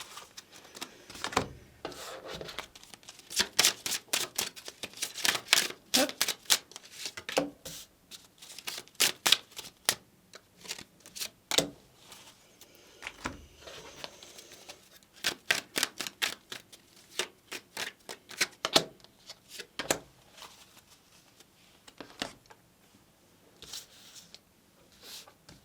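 Oracle card decks being shuffled and handled in a tarot-style reading, giving a run of crisp, papery riffles and taps that come in irregular bursts, close and fairly quiet, with no talking.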